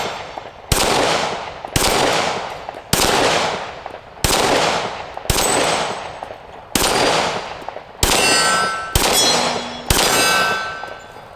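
A Glock 19 pistol fired in a steady string of about ten loud, sharp shots roughly a second apart, each with a bright metallic ring and a brief decaying echo, close to the listener.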